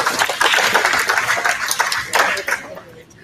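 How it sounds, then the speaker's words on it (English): Audience applause for a young child at a 4-H Clover Kids show and tell at a county fair, a dense burst of clapping that thins out and fades after a few seconds. "Let's give Coulter a round of applause"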